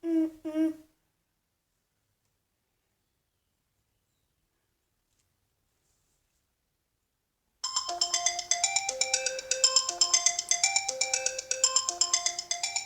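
A phone gives one short electronic tone, then a long silence, before a repeating melodic ringtone plays loud and close, warbling steadily on its own while a call is placed to the police.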